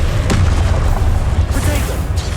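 Blasting spell explosions from Hogwarts Legacy, a few booming bursts with a sharp crack near the start, loud over a dense low rumble of game audio with a voice talking.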